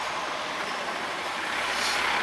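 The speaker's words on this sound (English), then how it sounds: "that's a garbage truck coming in" A garbage truck pulling in produces a steady, fairly loud engine and road rumble with a broadband hiss that swells slightly toward the end.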